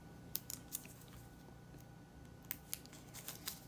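A 2.5-inch hole punch working through paper, giving a handful of faint, sharp crisp clicks and snips scattered over a quiet background, with a few clustered near the start and near the end.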